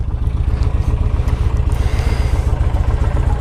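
Idling 2008 Honda Shadow 750 Spirit motorcycle engine with low miles, a close, steady low throbbing rumble with even pulsing and faint mechanical clatter on top, no voices.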